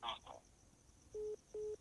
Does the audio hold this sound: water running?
no